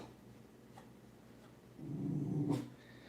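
A dog indoors sounds off at people milling around an apartment parking lot outside the window, giving one low, muffled growling bark burst after a quiet stretch of room noise.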